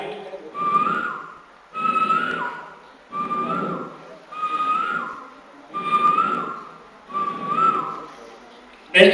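A voice imitates the call of a koel, a bird, as six evenly spaced whistled phrases, each a rising tonal note about a second long, with short gaps between them.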